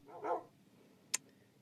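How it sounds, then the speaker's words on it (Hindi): A single soft bark from a dog in the Minecraft video game, followed by a short sharp click, faint against quiet game ambience. "और यहाँ पे 2 कुत्ते भी हैं।"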